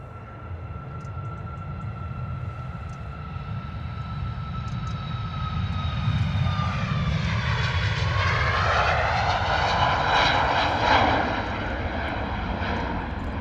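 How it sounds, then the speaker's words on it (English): A Ryanair jet departs London Stansted for Lisbon. Its loud, steady engine roar swells and sweeps in pitch as it passes, with no talk over it. "next departure out the door, Ryanair off to Lisbon"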